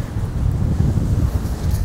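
Strong wind roars and buffets the microphone in a steady rumble on a Danish North Sea beach, with faint rough surf underneath.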